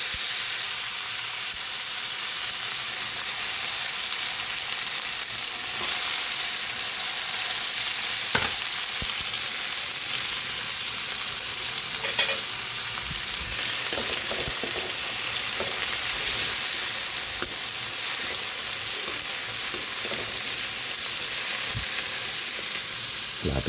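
Tomatoes sautéing in a pan for a Filipino ginisang toge dish, giving a continuous close sizzle and frying hiss with occasional clinks of stirring.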